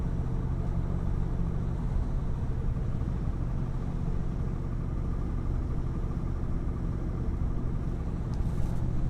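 A 1964 Chevrolet cruising on smooth rural back roads, its engine a steady low rumble with road noise beneath, constant and unbroken from start to finish with no voices.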